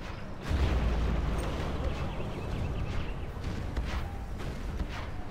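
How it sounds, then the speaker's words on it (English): Scud launchers fire during a GLA mirror match of Command & Conquer Generals on the Sand Scorpion map, a sustained loud rumble of distant booms and explosions running throughout with no pauses. "Fargo wanting to gain some ground now with these Scud launchers"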